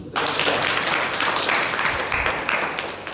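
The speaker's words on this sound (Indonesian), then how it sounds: "Tepuk tangan dulu." A group claps their hands together in a dense, steady burst of applause lasting a few seconds, with no talking over it.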